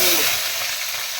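Dried red chili and urad dal sizzle and fry in hot oil for a Tamil karamani kara kuzhambu, a steady, close, bright crackle with no voices.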